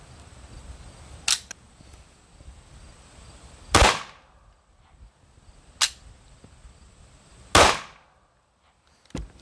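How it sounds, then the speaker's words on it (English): A Sig P211 pistol, prone to malfunctions, fired outdoors: four sharp, loud reports spaced roughly two seconds apart, with quiet background between shots. "there's 5 rounds through that gun"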